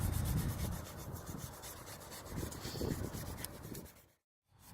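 Alloy wheel rim rubbed by hand with grit paper during a diamond-cut repair: a quiet, continuous back-and-forth scraping with a gentle stroke rhythm, ending in a brief silence.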